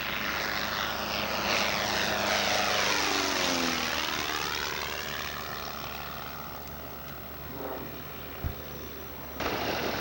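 A Monocoupe propeller airplane flies past at a 1994 fly-in, its engine drone swelling, then dropping sharply in pitch as it passes and fading into the distance.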